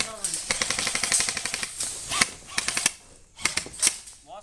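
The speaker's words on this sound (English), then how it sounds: "I need cover fire. We can cover you. 3, 2, 1. Cover fire!" Airsoft guns firing rapid cover fire during a gameplay match, with fast rattling bursts close by and shouts from players mixed in.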